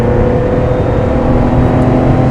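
A classic Porsche 911 Carrera engine revs hard and steadily from the driver's seat, a loud continuous throaty drone that holds at high revs throughout without a break.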